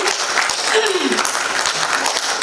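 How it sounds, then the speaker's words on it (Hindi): An auditorium crowd at a computer centre farewell program claps loudly and continuously, a dense wall of applause with a voice briefly audible underneath. "इनके लिए ज़ोरदार तालियां हो जाएं"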